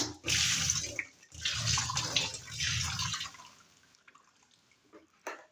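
Water gushing and splashing while flushing out a washing machine drum during home cleaning, a loud rush in several bursts that fades to scattered drips and small knocks.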